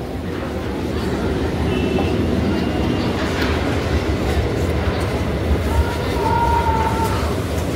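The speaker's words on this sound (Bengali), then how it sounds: "আমার ভাগ্যটা এতই খারাপ যে এখনই ট্রেন যাচ্ছে" A train passing nearby, heard as a steady loud rumble and rattle of wheels on rails that holds throughout, with faint voices underneath.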